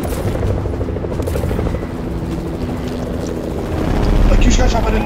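A Fortnite helicopter drones with a loud, continuous rotor rumble that swells near the end, and a voice speaks over it.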